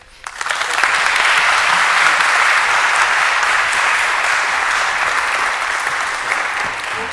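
A conference opening ceremony audience breaks into warm applause, a dense, loud sustained clapping from a large crowd that swells quickly and holds steady with no one speaking over it.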